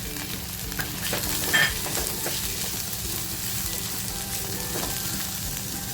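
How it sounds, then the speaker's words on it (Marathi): Onion, spring onion and chillies stir-fried in a hot pan for prawn chilli, giving a steady, close sizzle with stirring scrapes and a brief louder flare, with no talking. "कांदा टाकते त्याच्यानंतर बघा हा सुद्धा पातीचा कांदा आहे तो टाकते मिरच्या घेतल्या होत्या त्या टाकते"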